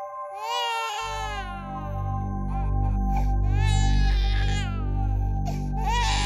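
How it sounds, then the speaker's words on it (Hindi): An infant cries loudly and continuously in a home setting at night, wailing in long rising and falling sobs with brief catches of breath, the sound filling the whole scene. "आपको ये किसी बच्चे की रोने की आवाज आ रही है?"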